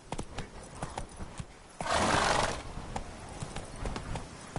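The horse Roach in The Witcher 3: Blood and Wine trots with steady clip-clopping hooves, fairly quiet, and a breathy snort or whinny rises in the middle of the gait.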